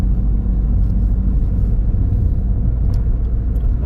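A car engine on the move gives a steady, loud low rumble of road and motor noise, with no talking, recorded from inside the vehicle.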